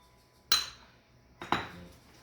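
Raw egg dumped into a bowl while mixing dough for homemade hamburger rolls; two quick clinking impacts about a second apart, each fading quickly in a quiet kitchen.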